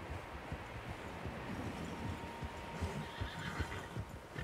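Horses whinny and neigh with hoof clip-clops in the Red Dead Redemption 2 video game, several animals heard fairly close over steady outdoor wind and game ambience.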